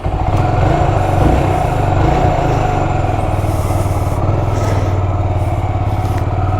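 A 1992 Honda GB500 TT single-cylinder motorcycle being ridden on an Irish road, its engine a loud, steady low drone held close and continuous throughout with no talk over it.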